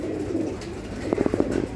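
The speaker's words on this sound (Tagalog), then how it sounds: "Ito yung mga bagong dating na ibon sa akin." Pigeons coo in low, throaty bursts, a short run of soft coos over steady background noise.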